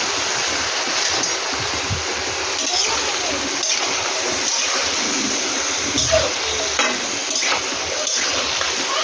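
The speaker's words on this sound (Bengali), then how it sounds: "তেল ছেড়ে মোটামুটি ভাজা হয়ে গেছে।" Chopped vegetables for pachon sizzle and frying in oil in a pan, a dense, steady hiss with faint stirring scrapes, close and continuous throughout.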